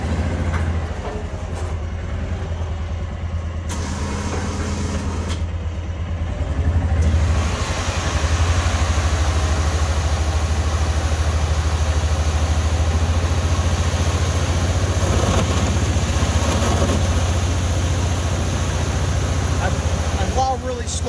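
A Kawasaki Mule 610 XC utility vehicle fitted with a WARN ProVantage snow plow runs with a steady, loud engine drone that swells and thickens after a few seconds as it gets moving, continuing without a break.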